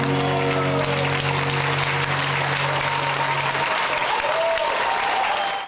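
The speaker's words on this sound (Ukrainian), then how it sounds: "Хіти рокерів збирають шквал аплодисментів." A crowd at a rock concert by the Ukrainian band Druha Rika in Vinnytsia gives sustained, thick applause. Fading instrumental tones hang under the clapping for the first few seconds before the applause continues alone.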